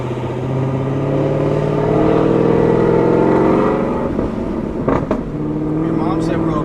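A cammed Cadillac CTS-V with a cold air intake and tune accelerates hard, its engine droning loud and close as the pitch climbs steadily, with voices talking over it.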